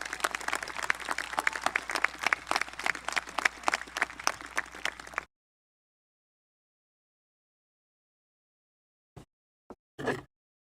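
High school graduation audience applause, dense clapping from a large crowd for about five seconds that stops abruptly, followed by silence and a few brief stray sounds near the end.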